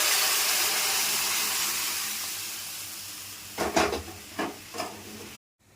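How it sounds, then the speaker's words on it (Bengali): Jackfruit seed dal cooking with tomato, green chilli and grated ginger in a pan: a broad, steady sizzle that slowly fades, then several scraping stirs near the end before the sound cuts off. "এবার কাঁঠালের দানার ডালটা দিয়ে দিচ্ছি।"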